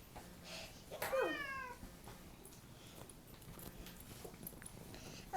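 A cat gives one clear rising-and-falling meow early on, fairly close, with a soft shuffling room background and no talk around it.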